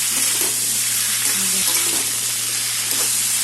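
Squash, pointed gourd and potato sizzle steadily as they fry in a pan, a dense, continuous crackle with no voices over it.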